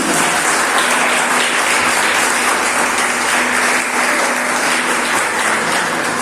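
A church congregation claps in praise during a Spanish-language sermon, a dense, loud, continuous roar of applause filling the room, with a low sustained tone faintly underneath.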